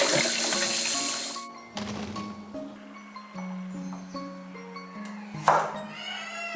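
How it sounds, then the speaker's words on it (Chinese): Running tap water pours over Chinese broccoli stems in a kitchen sink, a steady splashing rush, with faint ringing tones and a louder splash near the end. "再把芥蓝梗洗一下"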